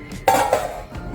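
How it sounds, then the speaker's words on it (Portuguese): A metal lid clinks once as it is set half open on a cooking pot of cooling brown rice, followed by a faint second tap and a soft rattle, close and alone. "Eu deixo assim, sabe, a tampa meio aberta para o vapor poder sair e vou deixar aqui até esfriar."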